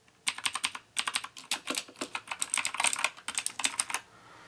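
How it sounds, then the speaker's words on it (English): Bursts of crisp, clicky keystrokes come from a Rii K61C mechanical keyboard with blue switches, typed in quick irregular clusters close up and alone. "So I'm just gonna click on a few keys and you can see if you can hear it."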